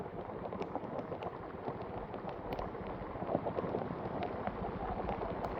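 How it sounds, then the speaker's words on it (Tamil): Heavy downpour in Jaffna, dense continuous rain hissing and drumming on surfaces, steady and loud throughout with no voices, a constant wash of close, intense rainfall. "அப்படி கடுமையான மழை பெய்தோன்னு இருக்குங்க பாருங்க"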